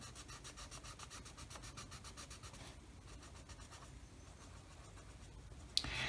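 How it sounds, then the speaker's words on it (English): Soft, continuous scratchy rubbing of a blender pencil stroking back and forth on paper in a quick, even rhythm, close and faint. "So now I'm using my blender pencil again."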